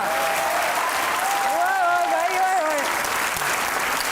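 Studio audience applause on a comedy show, a steady wash of clapping throughout with a voice speaking over it partway through.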